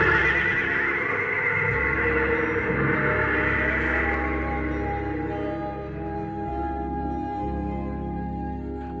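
A horse rearing on its hind legs neighs in a film scene, a long loud whinny that trails off, heard alone with no talk.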